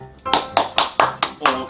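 A few people clap at a steady pace, about seven sharp claps in under two seconds, close by and clear.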